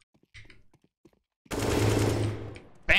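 A single loud gunshot burst rings out in a first-person video game shooter while the player aims at eye level for headshots, sustained and then tailing off, following a few quiet clicks and soft sounds.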